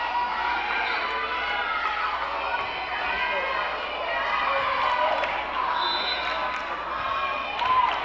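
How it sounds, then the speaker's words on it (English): Crowd at a girls high school volleyball match between Guajome and Oceanside in a gym, chanting and cheering steadily across the whole clip, with court noise and a slight swell near the end. "Let's go Guajome chant going in the crowd"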